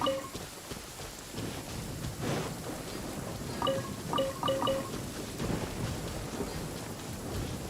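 Rain and rumbling thunder in the Genshin Impact video game, a steady wash of rain with low rolling thunder and scattered game chimes, fairly quiet and continuous without talk.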